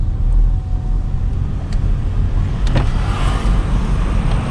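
Road noise pours in through an open window of a Mercedes-Benz W202 C230 while driving, a loud, steady broadband rumble with wind buffeting and no speech.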